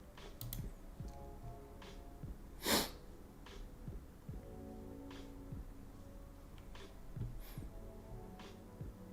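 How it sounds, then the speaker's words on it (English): A single sharp sneeze bursts out midway through a quiet room, surrounded by soft clicks and faint background hum. "But we just sneeze at the same time."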